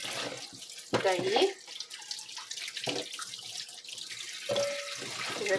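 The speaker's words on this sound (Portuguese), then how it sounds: "Então, se lava bem lavado aqui, ó." Tap water running into a sink while pumpkin is rinsed clean of leftover lime grit, with splashing and dripping in bursts as someone talks over it.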